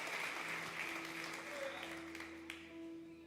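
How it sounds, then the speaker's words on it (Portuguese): A church congregation applauds during an evening communion service, a dense continuous clapping that tapers slightly toward the end. "dá um aplauso ao Senhor"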